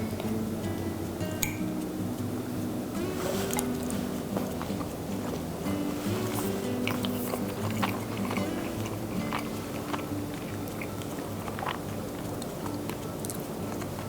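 Close, quiet chewing of baked salmon with fresh herbs, lemon and Dijon mustard, soft wet bites with occasional light clinks of cutlery against a plate, continuous over a low kitchen background.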